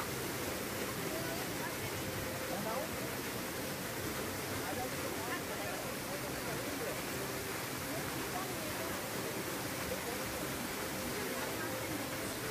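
Bamni Falls in Purulia pours water in a steady broadband roar, continuous and fairly close throughout, with a faint voice or two blending into the rushing wash.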